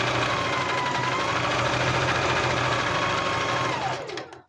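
A sewing machine runs fast in one unbroken, close, loud stitching burst with a steady whir, then winds down and stops at the end.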